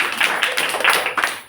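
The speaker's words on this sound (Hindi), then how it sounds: "थोड़ा सा जोर से ताली बजा दीजिए।" Audience clapping at a sales talk, a dense, continuous patter of many hands close by, fairly loud and steady with small surges, no voices over it.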